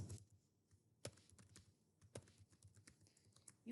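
Keys clack in a quick, uneven burst on a computer keyboard, with a few sharper keystrokes standing out against near silence; no voices.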